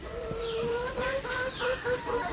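Poultry chickens cluck and murmur inside a coop, a run of soft, repeated calls at close range with overlapping tones, and no one speaks.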